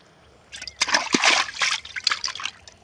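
Small bata fish tipped into a small village pond, water splashing and trickling for a couple of seconds in a busy, close burst, with no talk over it.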